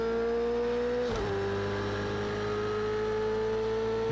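A Ferrari 488 Challenge race car engine in the racing game Project Cars 2 at Hockenheim drones loudly and continuously, dipping briefly as if shifting gear before holding a steady, high revving note.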